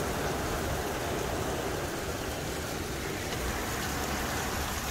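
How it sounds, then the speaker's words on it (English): Heavy rain beating on a campsite awning during a storm on an overland trip in the Balkans, a dense, continuous hiss of drops, steady and enveloping with no voices. "And this rain is insane."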